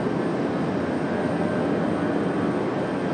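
A Delta airliner taxiing at Raleigh-Durham airport gives off a steady, loud, broadband jet-engine roar that holds level throughout with no voices.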